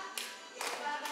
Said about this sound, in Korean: 음악에 맞춰 즐겁게 박수치며 치매 안심 체조를 배워봅니다